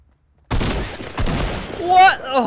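Rapid shotgun blasts in a Fortnite match, several sharp loud bursts close by after a brief silence, with a voice speaking over them.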